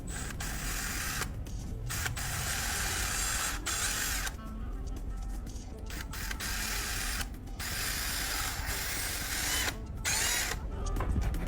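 Metal machining of DIY tool parts fills the space with continuous loud, harsh grinding and rasping, broken by brief gaps and ratcheting mechanical chatter, with no talking.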